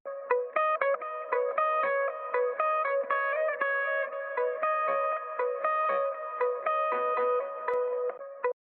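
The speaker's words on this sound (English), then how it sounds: "Which is just a guitar part that I recorded, kind of a counter melody" A plucked, effects-laden guitar line with steady repeated notes and a wash of reverb and echo, clear and continuous with no voices.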